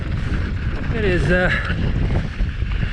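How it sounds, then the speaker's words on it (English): Gusty monsoon wind buffets the microphone on a sunset mountain bike ride at Phoenix Mountain Preserve, a loud continuous roar with a brief spoken remark over it. "Oh, the wind."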